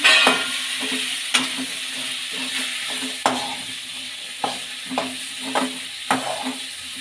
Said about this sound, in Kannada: ಶುಂಠಿ ಬೆಳ್ಳುಳ್ಳಿ ಪೇಸ್ಟ್ ಹಾಕ್ಕೊಳ್ಳೋಣ ಕ್ಯಾಪ್ಸಿಕಮ್ ಹಾಕೊಳ್ಳೋಣ ಎಣ್ಣೆಯಲ್ಲಿ ಚೆನ್ನಾಗಿ ಫ್ರೈ ಮಾಡ್ಕೊಳ್ಳೋಣ